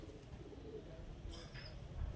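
A breeding pair of Kamagar pigeons, a male and a female, coo quietly. Low, soft coos murmur faintly through the quiet background, with a brief flutter of higher sound midway.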